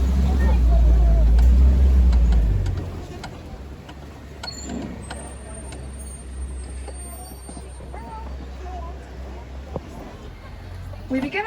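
A safari ride vehicle at Disney's Animal Kingdom rumbles with a steady low engine drone that is loud at first, then settles into a quieter hum as it rolls along, with faint background chatter.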